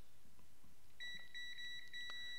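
A continuity tester checking solder connections on the pins of a Shawazu GB Dumper board gives faint, high electronic beeps. They start after a second of quiet and repeat in short, uneven bursts, with no speech.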